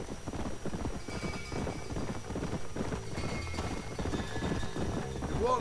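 A horse gallops in Red Dead Redemption, rapid rhythmic hoofbeats pounding steadily with a brief whinny near the end, over a faint backdrop of rain and distant rumbling.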